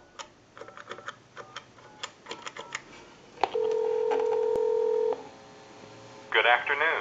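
Touch-tone dialing on an old Kellogg wooden wall crank telephone converted for modern use: a quick series of short beeps, then a long steady tone, followed by a brief burst of other sound near the end.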